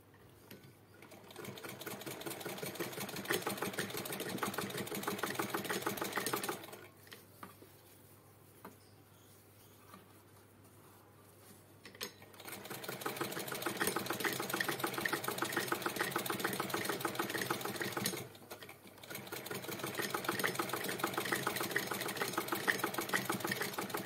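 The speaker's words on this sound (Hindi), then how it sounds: "इसमें लंबाई में सिलाई डालनी है देखो मैं सिलाई डाल के दिखाती हूँ" A sewing machine runs a lengthwise seam through folded fabric while a pouch is made from old cloth, with steady whirring stitching in long runs and a quiet pause between them.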